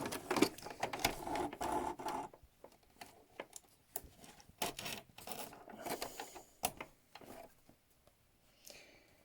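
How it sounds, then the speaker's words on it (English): Sewing machine back stitching a seam on a red dress, sounding as bursts of rapid mechanical stitching broken by short pauses across the clip, fairly close with no talk. "we're going to just back stitch that a bit to secure it"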